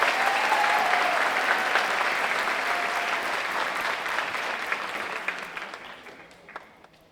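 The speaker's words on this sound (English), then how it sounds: "this person deserves a double round of applause, Ms. Katie Shaw, Senior High School Advisor." Sustained applause from a large crowd at a high school graduation, loud at first and gradually fading toward the end, with a few scattered claps lingering.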